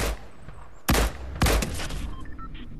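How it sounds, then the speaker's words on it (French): Gunfire erupts in the Fortnite video game, two loud, close bursts of shots about half a second apart, followed by lingering game noise and faint tones. "Ça tire!"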